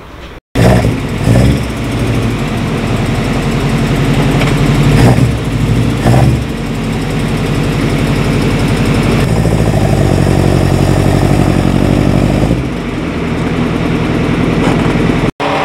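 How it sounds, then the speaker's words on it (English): A tow truck's engine idles loudly and steadily nearby, a continuous low diesel rumble with slight shifts in tone. "Tow truck finally arrived, so let's go out and get the A6 onto the tow truck."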